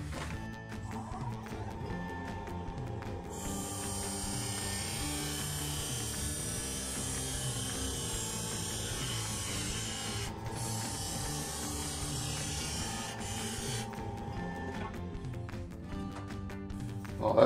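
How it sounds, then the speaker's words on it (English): Spindle gouge cutting a cedar vase on a wood lathe spinning at 2000 RPM, a steady continuous scraping whir with a constant motor drone throughout. "Going to be using my spindle gouge"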